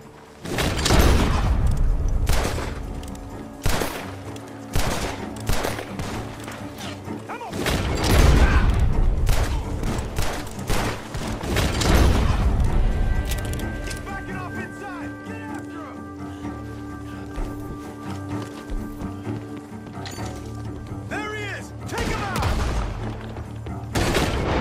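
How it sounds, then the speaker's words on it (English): Gunfire in a Red Dead Redemption 2 shootout near a barn: repeated loud shots and bursts over about twenty-five seconds, with cattle lowing, game music and voices between volleys. "The gunshots!"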